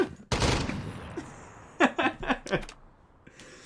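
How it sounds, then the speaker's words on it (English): AK rifle gunfire from a video game rings out as a loud burst, then a rapid run of sharp shots in quick succession that trails into quieter decaying echoes. "That's the AK sound effect."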